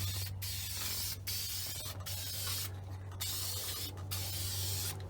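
Bursts of aerosol spray paint lay a first coat on a car dashboard, with about five short hissing passes separated by brief pauses. The sound is fairly close and steady, with no talking.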